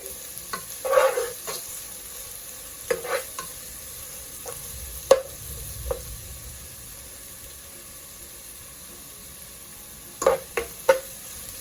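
Onions, with scallion, fry in a pan for jerk tofu under a soft, constant hiss, punctuated by scattered clattering stirs of a utensil against the pan.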